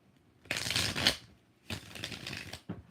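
Tarot cards shuffled by hand in two quick riffled bursts, a longer crisp flutter followed by a second run and a short final snap, close and fairly quiet with no talking.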